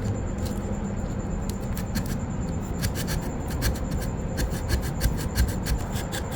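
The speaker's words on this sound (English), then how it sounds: "let's go ahead and start sanding some of the stuff" Continuous scratchy rubbing and rasping of hand sanding wood corners and edges with a detail sanding set, repeated short strokes and no voices.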